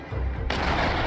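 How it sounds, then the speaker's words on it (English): A bomb goes off at the station in Gerda: A Flame in Winter, a low rumble swelling into a loud, sustained blast that roars through the short stretch without letup. "The bomb is going to go off any second."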